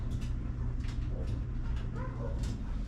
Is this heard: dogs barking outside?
yes